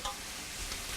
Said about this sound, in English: I'm gonna put the noodles in now.